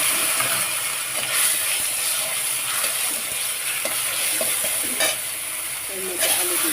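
Potatoes fry with turmeric, salt and ginger in a pan, a loud, dense, continuous sizzle close up with occasional light scrapes and taps of a stirring utensil, no speech.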